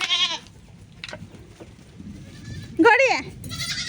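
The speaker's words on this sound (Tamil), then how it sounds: "நான் சிங்கப்பூரிலிருந்து ஒரு ஆட்டுக்கு சிங்காரி என்று பேர் வையுங்கள" A goat bleats in a farmyard, with a quick call at the start and a louder, wavering bleat near the end, both close, while people talk in the background.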